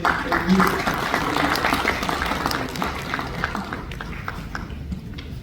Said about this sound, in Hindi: आप सब लोगों की भरपूर तालियों में